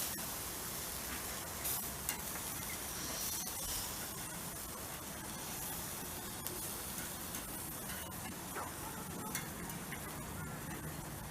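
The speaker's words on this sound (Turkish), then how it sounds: "Arkadaşlar hayatımda ilk defa böyle bir sosis pişiriyorum" Hot dog sausages sizzle on a charcoal grill, giving a dense, steady crackle and hiss with scattered faint ticks, fairly quiet and continuous, with no voices.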